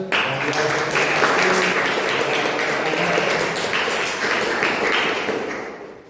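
A classroom audience at an Islamic religious education teacher-training presentation claps together, a dense, steady wash of applause that holds for several seconds before tapering off at the end.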